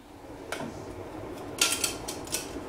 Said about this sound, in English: Put the kettle on.